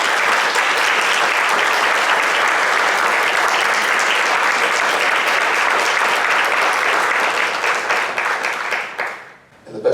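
Audience at a school board of education candidates' forum applauding the election candidates, a loud, steady wash of clapping for about nine seconds before tapering off abruptly.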